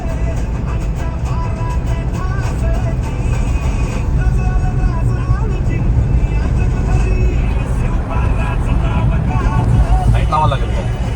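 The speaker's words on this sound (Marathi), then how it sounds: "पहिल्यांदा आपली गाडी बोगद्यातून जाणार आहे पहिल्यांदा" A car travels through the narrow tunnel on the Malshej road, its engine and road noise forming a steady, loud rumble that fills the enclosed space, while people talk throughout.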